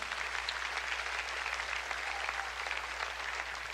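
A church congregation applauds steadily in worship, a continuous, even wash of clapping heard from some distance at low volume, with a faint low hum beneath.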